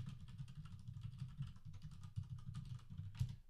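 Quick, light keystrokes on a computer keyboard as a password is typed at login, a steady run of soft clicks under a low constant hum, quiet and close.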